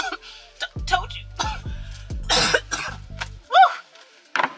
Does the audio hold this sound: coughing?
yes